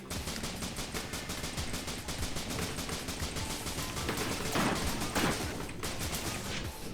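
Rapid, continuous gunfire while shooting worms in the video game Risk of Rain, dense rattling bursts that run without a pause alongside game sound effects.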